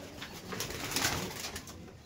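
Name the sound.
pigeons cooing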